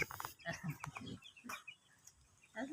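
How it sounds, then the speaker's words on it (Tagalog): A rooster clucks and calls in short bursts, fairly close, with brief gaps of quiet between the calls. "Tandang yan."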